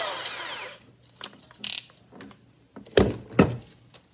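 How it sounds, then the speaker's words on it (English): A power drill fitted with a wood rasp bit shapes a wooden sword blank, giving short bursts of whirring and grinding with pauses between them, the last two bursts loud and close. "wood rasp bit, so I'm gonna throw it into my drill here"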